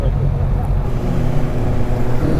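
A Kawasaki Ninja ZX-6R sport bike on a test ride makes a loud, steady engine drone mixed with wind rush, with no clear revving or gear changes.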